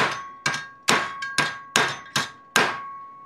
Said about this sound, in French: Avec le marteau.